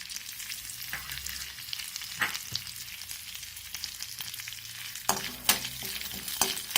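Whole garam masala spices fry in oil in the same pan used for paneer, giving a continuous bright sizzle with occasional spoon scrapes, then a louder burst of crackling and stirring clatter near the end.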